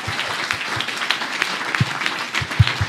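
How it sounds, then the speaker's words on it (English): An audience at a panel event about stress applauds the organisers with light, scattered clapping. Individual claps stand out now and then, and the applause stays moderate and steady for about three seconds. "can we first give a round of applause to Naji and Beth for organizing this fantast"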